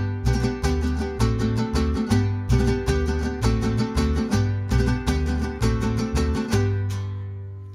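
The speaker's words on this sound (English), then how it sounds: "vihuela, and guitar make the armonía section of a mariachi" Guitarrón, vihuela and guitar of a mariachi armonía section strum together in a steady rhythmic pattern, the guitarrón's deep bass notes under bright chords, loud and close, ringing out at the end.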